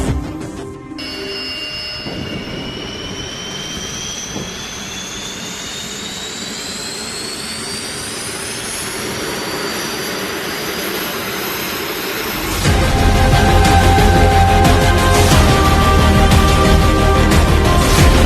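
Baykar Kızılelma unmanned combat jet's engine running on the ground, a steady loud turbine roar with a rising whine, then a sudden louder surge of thrust near the end, with no talk.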